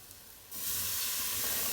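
A pan of harira soup with cinnamon bark and cloves is deglazed, liquid hitting the hot surface with a sudden burst of loud steamy hiss that holds steady after a quiet start.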